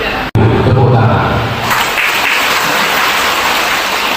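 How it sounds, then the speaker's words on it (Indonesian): A crowd at a majelis ta'lim inauguration bursts into loud, sustained clapping after a brief dropout, the dense patter continuing steadily to the end. "tepuk tangan."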